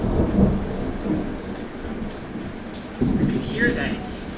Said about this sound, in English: Rolling thunder. It's still going.